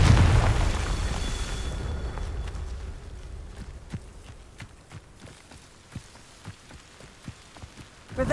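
The Confringo blasting spell goes off in Hogwarts Legacy with a loud, roaring burst that fades over about two seconds, followed by scattered debris patters and thumps that continue after it.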